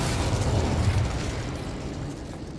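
The Incendio fire spell is cast in Hogwarts Legacy, a loud whooshing burst of flame that rumbles and then gradually fades away.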